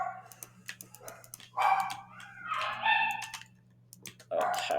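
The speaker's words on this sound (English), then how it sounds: "If you hear the noises, it's the dogs." Dogs barking in the background of a home workshop, several sharp barks in bursts, somewhat distant and mixed with clicking sounds and a low steady hum.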